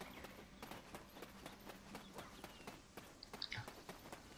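Horse hooves in the Black Desert Online video game, a quick run of soft clip-clop beats in an even rhythm, fairly faint, with a brief bird-like chirp near the end.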